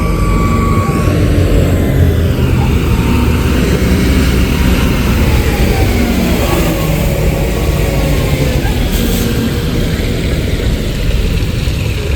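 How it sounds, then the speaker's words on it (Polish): A huge farm tractor's engine runs close by in a small village, a loud steady low rumble that holds without pause from start to finish. "gospodarstwa tu mają małe, ale maszyny duże. Ogromny ciągnik."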